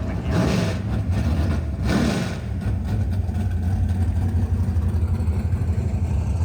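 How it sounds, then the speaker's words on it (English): A professional drag racing mini bike engine droning steadily on a 1/8th mile pass, a continuous buzzing rumble that holds at an even level throughout, heard from a moderate distance with no talking. "your first pass ever on a proper professional drag mini bike"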